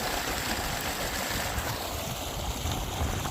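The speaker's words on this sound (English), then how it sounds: "And then a nice little waterfall. This comes down. You get a little waterfall." A small outdoor waterfall splashes in a constant broadband rush that masks everything else, steady and close throughout.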